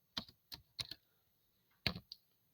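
Typing on a computer keyboard while writing Python code, a few sharp close key clicks in a quiet room, with a short pause before a final pair of presses including Enter.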